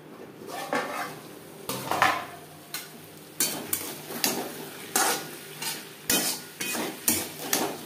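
Rui fish curry with potato and cauliflower being stirred in a pan, a spoon scraping and clinking against the metal in repeated strokes over a low sizzle, with no voices.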